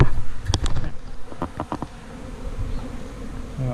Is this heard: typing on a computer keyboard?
no